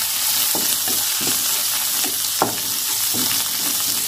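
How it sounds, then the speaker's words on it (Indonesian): Onions sautéing in a hot pan with bruised galangal, a continuous loud sizzle broken by a few stirring scrapes, close and alone without talk. "Ini kita tumis sampai si bawangnya harum. Kemudian aku tambahin lengkuas yang sudah aku geprek."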